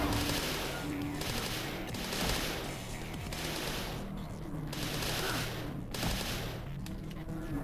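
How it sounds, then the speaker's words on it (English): Gunfire from GoldenEye 007 on the Nintendo DS chatters in continuous rapid bursts of game shots over a dense, steady background of in-game sound, loud and unbroken for the whole stretch. "Let me shoot that before I blow myself up."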